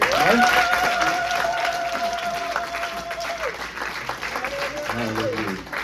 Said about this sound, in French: Vous pouvez encore applaudir la mariée.